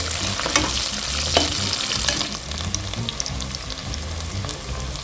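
Onions sauté in a cooker for tamarind rice (puli sadam), a steady close sizzle with scraping stirs and clinks running throughout, no voices.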